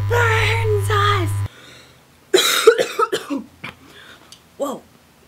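Several sharp coughs ring out one after another in a darkened movie theater. A brief stretch of other sound comes before them.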